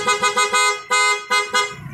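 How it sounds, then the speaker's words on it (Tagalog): Dual contact horn on an Easyride ADV 175 motorcycle honks in a quick series of short, loud, bright beeps, about seven bursts with a brief pause midway, close and alone. "Tapos dito yung dual contact horn."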